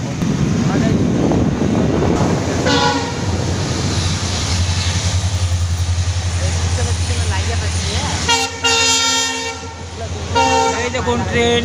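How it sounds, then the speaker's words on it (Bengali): A Jalpaiguri local train rumbles past close by, sounding its horn in loud repeated blasts over the heavy rolling of the wagons, with people talking nearby. "Local Jalpaiguri local train."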